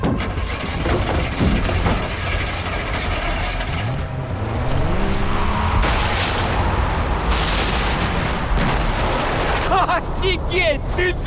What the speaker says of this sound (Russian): Ты видел этот взрыв?